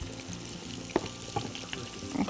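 Chicken drumsticks frying in very hot oil, a continuous close sizzle and crackle with a few sharper pops as pieces are turned.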